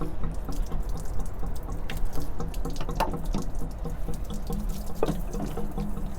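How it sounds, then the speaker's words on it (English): Water runs and gurgles steadily out of a drain hose as the hot water tank of a 2021 Wildwood 42FLDL travel trailer empties, a close, continuous flow with occasional splashes and drips, no voices. "That'll allow the hot water tank to drain itself out."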